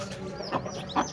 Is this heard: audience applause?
no